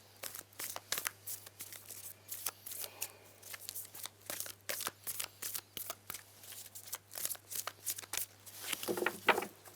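Cards are shuffled repeatedly up close, a run of quick papery riffles and snaps in a fairly regular rhythm against a quiet background.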